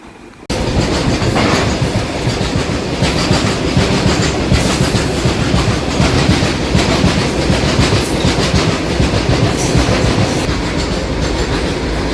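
A DEMU train on the Secunderabad to Siddipet line rolls steadily along the rails, a loud, close, continuous rumble with rhythmic clickety-clack of wheels over joints.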